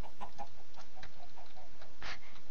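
Chickens clucking in a Minecraft UHC game world, several short scattered clucks at moderate level with one louder squawk near the end, no talk.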